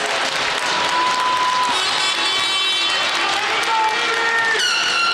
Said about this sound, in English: the Long Beach fans are standing up and cheering